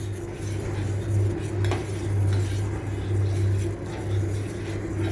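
A spoon scrapes and clinks against a metal pot as powdered milk is stirred into boiling milk for a potato kheer, the steady stirring sound rising and falling over a low burner hum.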